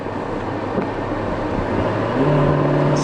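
A Ferrari 812 Superfast accelerates with a strong, continuous engine roar that shifts pitch as it changes gear smoothly, heard from inside the car.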